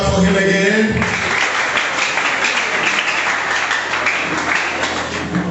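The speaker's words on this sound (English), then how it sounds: "Please very clap for him again." Clapping from the audience at a school debate between Comprehensive and St. Michael's College, broad and steady after a brief voice at the start, continuing alone for several seconds.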